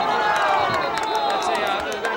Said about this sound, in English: Upset fans for Indian Hill and applauding fans for Killbourne.